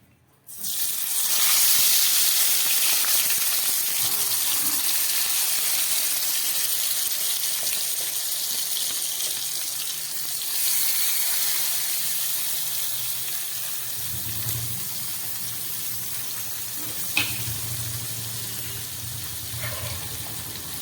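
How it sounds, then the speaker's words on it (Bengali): Bhola fish frying in hot oil in a wok, a steady broad sizzle that rises quickly and holds loud and close throughout, with a brief louder crackle near the end. "ভোলা মাছ রান্না করার জন্যে কড়াইতে তেল দিয়ে দিয়েছি। এবার মাছটাকে আমি ভেজে নেব।"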